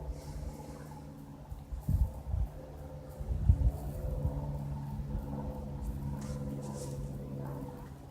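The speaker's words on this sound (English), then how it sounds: "And there's another Cessna coming out to rev." A Cessna light aircraft engine runs up at a distance, a low rumbling drone that swells in a couple of rough surges and then holds a steady, moderately quiet hum.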